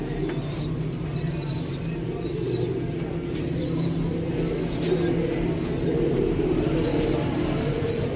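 Soft, low pigeon cooing repeats over a continuous background rumble, with occasional faint chirps and distant traffic.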